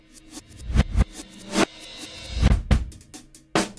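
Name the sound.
reversed audio sample selection in Kontakt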